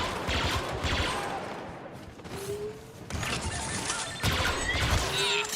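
Dense, continuous bursts of blaster fire and explosions in the Star Wars Battlefront 2 video game, loud and busy throughout with overlapping shots and impacts, with no talk over it.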